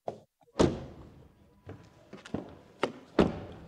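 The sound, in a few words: Nissan Micra 2026 car door closing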